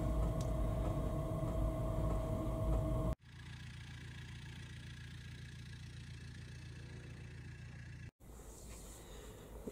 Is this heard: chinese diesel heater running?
yes